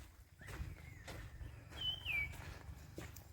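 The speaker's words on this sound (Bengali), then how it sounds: "কি সুন্দর পাখির ডাক।" Birds call with thin whistling chirps and one brighter rising-falling note in the Malinichhara tea garden in Sylhet, fairly faint over a low rumble of outdoor background noise.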